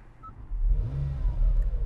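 A sports car engine cranks and fires up close by, settling into a deep, steady rumbling idle with a slight rev.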